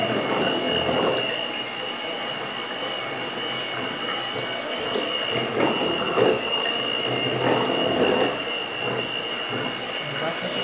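An electric hand mixer beats a homemade soap batter made with yeast and coconut oil, giving a steady, loud whirring drone that runs unbroken throughout.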